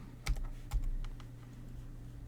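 A few light keystrokes on a computer keyboard, two sharper taps near the start followed by softer scattered clicks, close and quiet with no talking.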